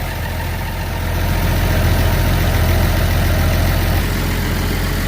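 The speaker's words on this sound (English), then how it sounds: "We're gonna fire up the machine there, Jeff's." A forwarder machine's engine runs at a steady idle, a loud continuous low rumble close by that rises slightly in level after the first second and holds steady.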